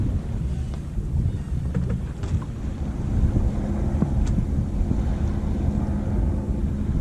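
Steady wind roaring over a sailboat fitted with new sails, a continuous rumbling, buffeting wash close to the microphone with no voices.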